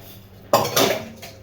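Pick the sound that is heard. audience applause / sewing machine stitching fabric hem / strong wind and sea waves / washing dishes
washing dishes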